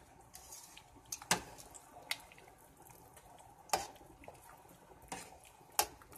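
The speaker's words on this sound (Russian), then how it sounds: "Так, дальше нужно хорошо перемешать, чтобы они не слиплись." Fettuccine noodles stirred in a pot of water, soft sloshing with scattered light clinks of a utensil against the metal, quiet and close with no talk.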